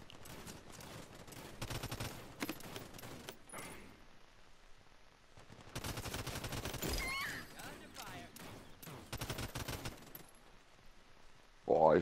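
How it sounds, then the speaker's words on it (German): Bursts of gunfire in the battle royale video game Realm Royale, rapid loud volleys broken by short gaps, with a player speaking intermittently over the shooting. "Ey, auf mich wird geschossen."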